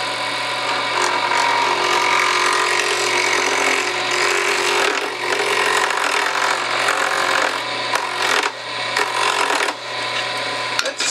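Hardwood blank being turned on a lathe for a pen, the gouge peeling off shavings in a steady, loud, continuous scraping hiss with a low motor hum underneath, nearly unbroken for the whole stretch and with no talking.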